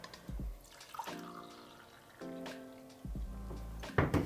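Water poured into a V60 pour-over coffee setup, heard as a few separate pours with rising tones as the vessel fills, close and moderately loud, with brief splashy bursts between pours.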